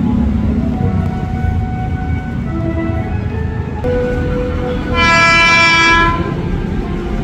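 A KRL commuter train rumbles through Duren Kalibata station in Jakarta with clattering wheels, and a loud horn sounds for about a second partway through. Faint background chatter.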